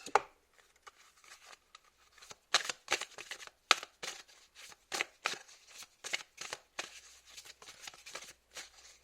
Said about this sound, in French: Je vais prendre la dernière carte pour cette pierre-là.